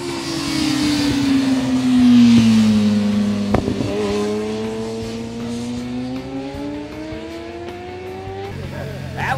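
A race motorcycle on a track at a riding school, its engine note falling as it slows into a corner and then rising steadily as the rider feeds the throttle, close and loud, alone without talk.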